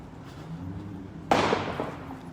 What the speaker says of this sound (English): we got gunshots already over here in the distance